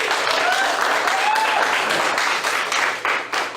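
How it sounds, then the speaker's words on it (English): A crowd at a bluegrass and BBQ fundraiser meet-and-greet applauds a bluegrass band, dense loud clapping filling the space throughout, with a few voices faintly mixed in and easing slightly toward the end. "let's give them an applause around that"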